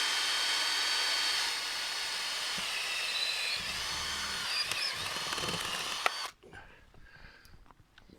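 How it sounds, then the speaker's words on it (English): A power drill whirs steadily as it pre-drills a pilot hole into a garden fence, a continuous high buzzing that runs for several seconds and then cuts off, leaving quiet outdoor background. "I'm going to actually be drilling it to the fence"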